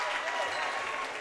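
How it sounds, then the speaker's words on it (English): A crowd in a high school gym gives a steady, full round of applause for a senior player during a Byron Tigers vs Stillman Valley Cardinals basketball game. The clapping is dense and loud from start to finish. "a senior getting a nice round of applause here on one of the last nights of basketball in his high school career"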